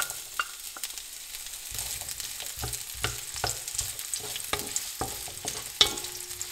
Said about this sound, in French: on va laisser revenir un petit peu